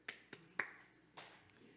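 Church congregation clapping three times during a Korean Sunday sermon, a few sharp isolated claps spaced apart, quiet and close with a faint room background.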